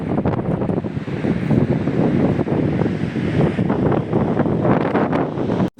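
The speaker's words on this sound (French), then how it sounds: "on vient de faire une pause parce qu'on vient de découvrir une cascade" Roadside waterfall on a dirt mountain track in Argentina, a steady loud rushing roar of falling water that fills the whole stretch without pause, mixed with wind buffeting the microphone and no voices.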